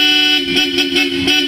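Bosch Europa horns fitted to a Nissan Terra blare loud and close, a steady tone with several pulsing honks over a running engine.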